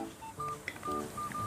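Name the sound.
phone ringing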